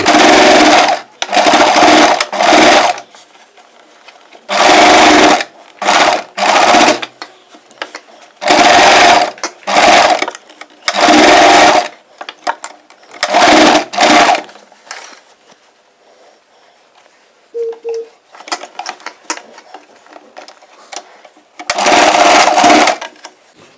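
A sewing machine stitches the frill sleeve of a layered churidar, running in loud, close bursts of rapid mechanical whirring separated by quiet pauses, with one long silent stretch midway.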